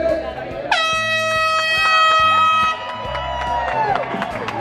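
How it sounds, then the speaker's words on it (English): A loud, sustained air horn blasts for about two seconds to start a women's running race, then a crowd cheers and whoops as the blast ends. "It's going to be runner set and then the air horn."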